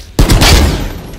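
Bulldog rifle firing a burst in the video game Valorant: an abrupt, very loud volley of rapid shots, close and punchy, followed by a short decaying tail.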